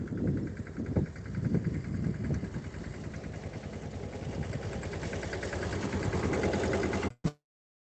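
A tractor engine runs in a brinjal field while fertilizer is being applied, holding a steady, close, throbbing hum that cuts off abruptly near the end, with no talking.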